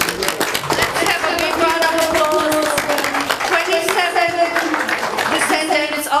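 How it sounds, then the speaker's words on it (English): An audience claps at Girmit Day celebrations, a dense patter of hand claps mixed with loud voices and singing-like tones, all close and busy throughout. "Let's have a big round of applause."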